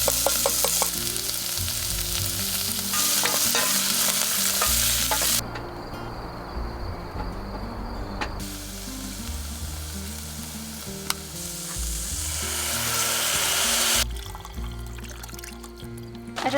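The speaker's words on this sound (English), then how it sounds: "I'm gonna throw that on the pan in some olive oil." Chicken sizzles steadily in olive oil in a pan at a solo camp site, a loud continuous frying hiss with shifting crackle and occasional stirring, no talk over it.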